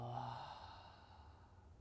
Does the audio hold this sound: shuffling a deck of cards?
no